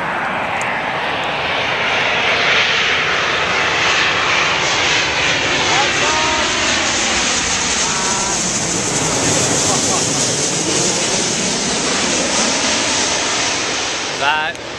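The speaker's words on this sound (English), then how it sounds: "And here comes an airplane." A fixed-wing airplane passes overhead outdoors, its engine drone rising from a distance to a loud, sweeping roar and then fading again, heard alone with no talk over it.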